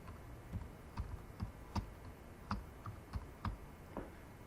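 Quiet typing on a computer keyboard while entering a URL in WordPress, with about ten separate keystrokes falling at an uneven, unhurried pace and no talking over them.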